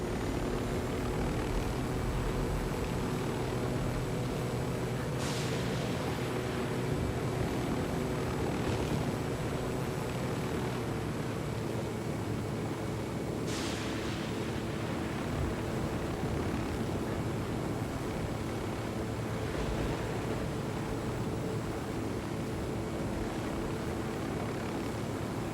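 Helicopter flying high on a long flight in the video game Ghost Recon Wildlands, a steady unbroken rotor and engine drone lasting over twenty seconds, moderate and alone.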